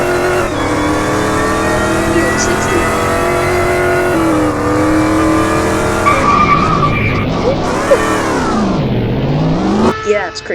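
Dodge Challenger in the Car Driving Ultimate game drifts with loud, sustained tire squeal over a droning engine, the pitch sliding up and down as it slides, with voices talking over it.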